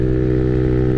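A Honda Navi's small carbureted engine idles around 1,700 rpm with a steady, close, even putter and hum across the whole short stretch.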